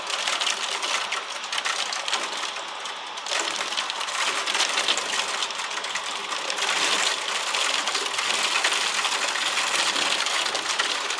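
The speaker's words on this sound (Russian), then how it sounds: "Фига себе, град реально летит." A heavy hail shower with rain in Irkutsk hammers surfaces in a dense, loud, continuous rattle of countless hard impacts close by, briefly easing then swelling again.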